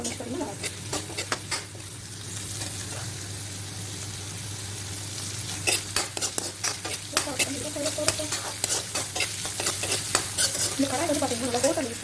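Onions frying in oil in a thick-based, hotel-style kadai for fish curry: a steady close sizzle broken by repeated sharp clinks and scrapes of a spoon against the metal, growing busier toward the end.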